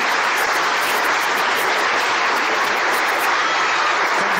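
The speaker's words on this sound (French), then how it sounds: "on peut l'applaudir une dernière fois." Dense, steady applause from a conference audience closing a keynote at a developer event, a continuous wash of clapping at even loudness throughout with no voices on top.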